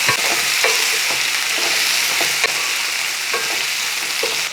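Potatoes stirred and fried in a pan for a roasted-coconut egg curry, a loud, steady sizzle broken by scattered scrapes and taps of the stirring spoon.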